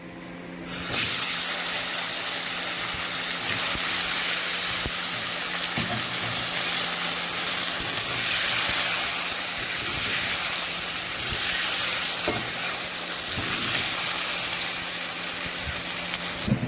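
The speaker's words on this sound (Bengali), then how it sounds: "সাদা জিরে ফোড়ন দিচ্ছে তেলে দিয়ে দিয়েছে এবারে আলুগুলোকে ভেজে নেবে" Potato pieces fry in hot oil with white cumin seeds for a tilapia and potato curry, giving a loud, continuous sizzling hiss that holds steady from start to finish with no talking.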